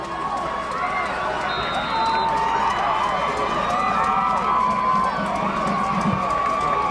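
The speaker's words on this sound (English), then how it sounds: "Crowd all into it now for the Vikings." A crowd at a 1998 high school football game roars and cheers for the Vikings during a kickoff, a dense sustained cheer under an announcer's play-by-play voice.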